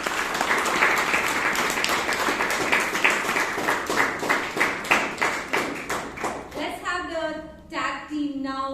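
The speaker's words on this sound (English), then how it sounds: "Let's give them a applause." Audience applause at a Toastmasters club meeting in Bangalore: steady clapping from a roomful of people that runs for about seven seconds, then fades out as a voice starts speaking near the end.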